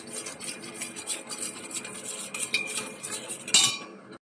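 A utensil mixes seasoning into food in a bowl, making close, repeated rubbing scrapes and clinks of metal against the dish in an uneven stirring rhythm, ending with a sharper clatter and no voices.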